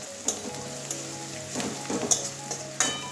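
Spices sizzling in a hot pan while cooking a prawn and water spinach curry after ginger and garlic have fried, a steady soft crackle with a few sharper pops and stirring clatters, no voices.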